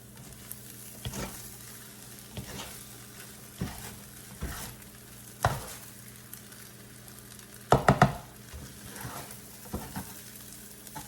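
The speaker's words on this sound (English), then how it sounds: "so we're going to start folding in our rice" A spatula folds rice into soft-scrambled eggs in a frying pan while making breakfast fried rice. Scrapes and light clatters come at irregular intervals over a gentle sizzle, with a quick cluster of knocks near the end.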